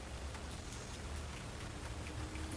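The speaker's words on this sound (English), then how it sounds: "It is definitely raining harder." Steady rain comes down hard in a constant patter of drops on surfaces, quiet but dense and unbroken, with a faint low hum beneath and no talking.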